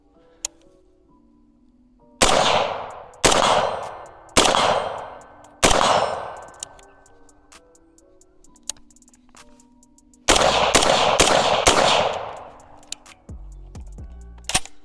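Close, loud rifle shots fired through a muzzle brake during an optic torture test: four single sharp blasts spaced about a second apart, then a rapid burst of four more, with long ringing decays and no talk.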